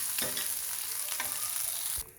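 Hilsa fish frying in hot oil, a continuous near sizzle with a few stirring or turning knocks, cutting off abruptly near the end.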